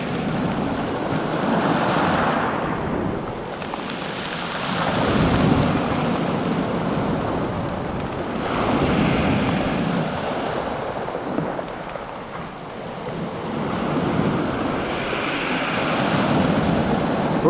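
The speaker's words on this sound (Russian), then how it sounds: "Просто слушайте море." Sea waves roll onto the shore at Lazarevskoye near Sochi in slow recurring surges, each swell of wash rising and fading every few seconds, with wind buffeting the microphone.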